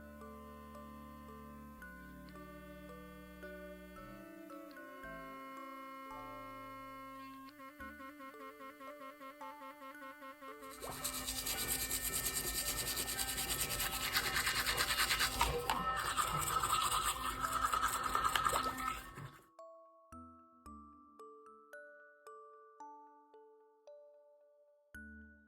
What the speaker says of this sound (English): I do want to show you guys a sound test, and I want to show you it in action brushing my actual teeth